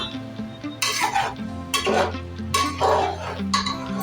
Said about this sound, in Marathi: भाज्या छान वर खाली परतवून घ्या